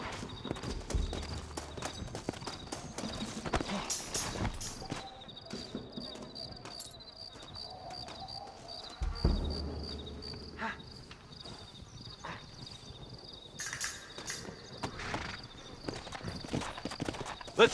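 Horses' hooves clip-clopping in the Western video game Red Dead Redemption, a faint rhythmic patter over chirping insects, with a few brief thuds.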